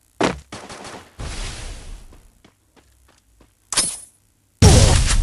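Free Fire gunplay delivers a sharp close burst, a stretch of rattling shots, a quiet gap with faint ticks, then another single blast and a final loud sustained burst.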